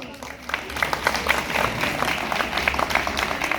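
Applause from an audience at a college cultural fest in Sri Ganganagar, moderate clapping heard from a slight distance, steady and fairly faint against a low background hum.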